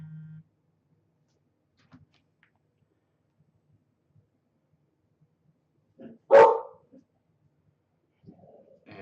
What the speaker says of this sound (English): I've muted my microphone because the dogs are barking